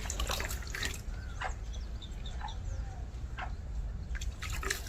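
Hot water splashes and trickles over a cow being washed on a cold day, soft intermittent pouring and dripping sounds close by at low volume.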